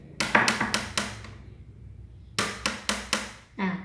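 Two bursts of sharp knocks on a hard wooden surface, five or so quick strikes each, separated by a short pause, close and fairly loud.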